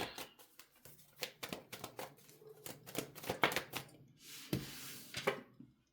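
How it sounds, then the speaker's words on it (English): Tarot cards are shuffled by hand, close and quiet, in a run of quick irregular riffling taps and flicks, with a softer brushing shuffle toward the end. "I'm shuffling my cards."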